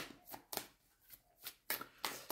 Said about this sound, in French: On va tirer quelques cartes de tarot maintenant